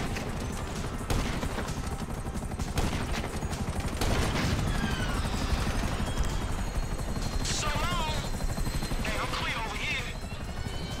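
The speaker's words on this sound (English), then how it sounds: "you might want to do something about the choppers before we're blown out of the sky" A helicopter attack in the GTA 5 video game: steady rotor roar with bursts of gunfire and machine-gun fusillades throughout, dense and loud, with players talking over the chaos.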